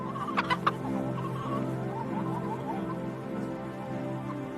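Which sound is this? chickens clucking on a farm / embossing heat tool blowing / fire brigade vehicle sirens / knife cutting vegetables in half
chickens clucking on a farm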